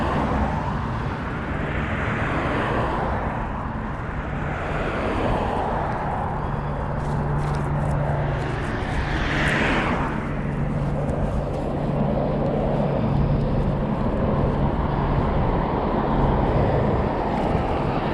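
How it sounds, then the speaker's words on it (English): A police helicopter flies ahead and overhead near Venice and Santa Monica, its engine drone steady and fairly distant beneath constant wind buffeting and passing traffic noise on a bike ride, with no voices. "Police helicopter up ahead and to my left."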